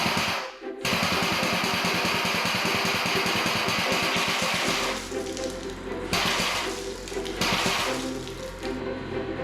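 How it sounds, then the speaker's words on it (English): A pump for a maple syrup filter press pushes water through with a loud, rushing gush and rapid pulsing chug, then a steadier flow with a deep low hum, with no talking. "we're gonna put some water through the filter press, not the press itself, but the pump"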